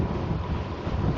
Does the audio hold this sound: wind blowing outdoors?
yes